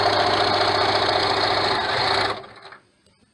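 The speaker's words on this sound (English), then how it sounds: "back stitch when you start and stop, 1/4 inch stitch, and just sew that right along." A sewing machine runs a quarter-inch seam on a child's cloth mask, a loud close rapid mechanical hum that stops abruptly near the end, leaving quiet.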